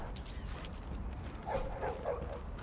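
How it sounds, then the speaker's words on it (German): A dog barks in the video game The Division, a short run of three or four yips and bow-wows in the middle distance over a steady ambient game bed. "Er bellt einfach."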